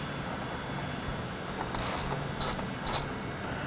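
A ratchet tightens the bolt that holds a JLT cold air intake airbox on a Dodge Challenger or Chrysler Charger Hemi, making a few short clicking bursts close by over a quiet background hum.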